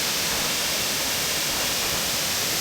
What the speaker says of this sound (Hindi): तो देखते कि यहाँ पे इस मंजर के पास ये वाटरफॉल